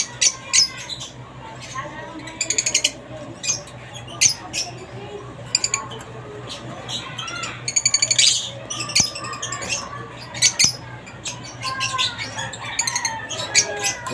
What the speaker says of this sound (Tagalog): Yung mga magandang ibon.